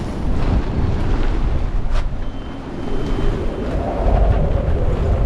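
Strong gusts of wind batter a boat at anchor in wild weather, roaring and buffeting the microphone continuously with rising and falling surges, loud and close throughout.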